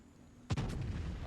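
Secondary battery guns firing on a warship in a naval combat video game: one sudden heavy boom after brief quiet, followed by a rumbling, rolling tail of echoing blasts.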